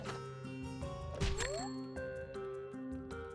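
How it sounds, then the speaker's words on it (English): An alarm rings inside the video game Kulebra and the Souls of Limbo, a bright chiming, tinkling tone with a rising sweep, layered over steady game music and sound effects at fairly even loudness. "That's an alarm."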